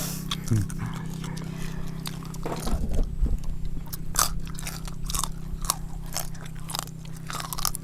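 Close, wet crunching and chewing of a spicy pounded field-snail salad, with repeated crisp bites and crunches over a low steady background hum and no talk.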